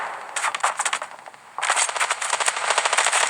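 Rapid bursts of game gunfire rattle in quick automatic strings, pausing briefly before a longer sustained volley.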